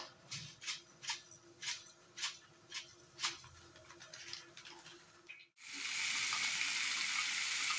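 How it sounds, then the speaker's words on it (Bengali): Hot oil in a wok ticks and pops softly in a steady rhythm, then nigella seeds hit it and a loud, continuous sizzle bursts out and holds. "কড়াইয়ের মধ্যে তেল গরম হয়ে গেছে, কালি জিরা দিয়ে দেব।"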